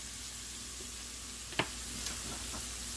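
Meat frying with garlic in a pan for a pizza casserole, a low steady sizzle with a couple of sharp utensil clinks, fairly quiet and without talk.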